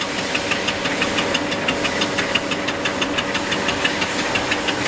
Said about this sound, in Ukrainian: Протачуємо, щоб потім надіти на нього бандаж, щоб не розвалювалася втулка.